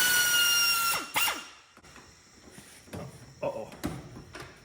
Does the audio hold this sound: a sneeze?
no